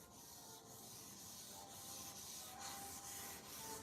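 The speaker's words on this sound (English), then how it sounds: "Then start sanding back and forth." Wet sanding of automotive clear coat with 800 grit paper wrapped on a block, water-soaked; a steady, close back-and-forth rubbing scrape that continues without pause and without talk.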